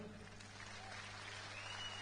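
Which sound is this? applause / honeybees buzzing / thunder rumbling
applause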